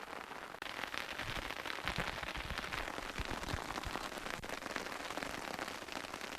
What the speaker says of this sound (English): snow pellets, or sort of freezing rain. It's just a little of everything today